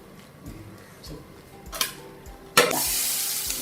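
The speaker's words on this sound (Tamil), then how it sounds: "தேங்காய் வறுக்க போகிறேன்" Grated coconut roasting in a pan for kadalai theeyal starts with faint scraping, then breaks into a loud, steady sizzle that holds to the end.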